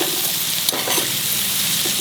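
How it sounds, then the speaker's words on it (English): Fried prawns for a dry prawn chutney are stirred in a pan over low heat, a steady close sizzle with a brief scrape of stirring partway through and no voices. "Keep on stirring."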